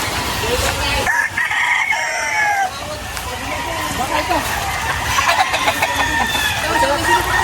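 White Kelso gamefowl roosters crow and cluck loudly in a busy poultry setting, several overlapping birds calling throughout, with people talking over them.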